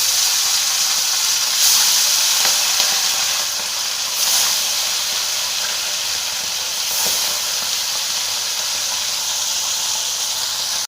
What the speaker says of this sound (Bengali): এবার আমি এক এক করে সব মাছগুলো দিয়ে দেবো।